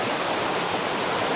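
Waterfall in the Megamalai hills near Theni, a steady broadband roar of falling water, continuous and fairly loud, with no voices.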